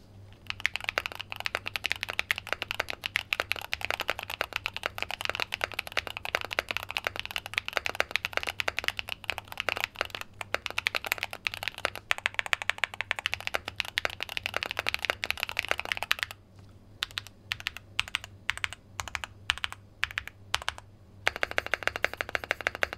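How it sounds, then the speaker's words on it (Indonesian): Rapid clacking keystrokes of a Luminkey80 mechanical keyboard, dense and continuous, close by, with bursts of separate key presses and a spacebar-like thock near the end. "Sekarang coba kita dengar dulu typing testnya seperti apa."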